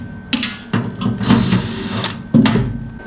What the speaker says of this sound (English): we have to remove these 12 screws, 6 on this side and 6 on the other side